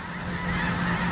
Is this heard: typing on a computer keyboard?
no